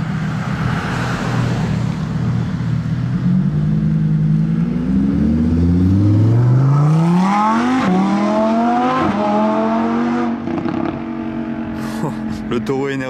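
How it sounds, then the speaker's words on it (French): A Lamborghini Huracan pulls away from outside a dealership, loud engine rising through several revving gear changes before fading slightly as it departs. "c'est insolent d'accélérer en Lamborghini comme ça, juste devant la concession Ferrari"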